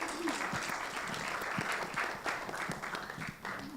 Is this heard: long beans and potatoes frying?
no